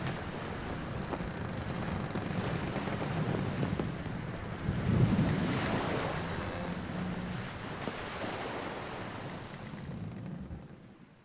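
Sailing ship pushing through ocean waves in a Caribbean pirate video game, a continuous wash of water and wind rising to a surge in the middle, then easing and fading out, with no voices.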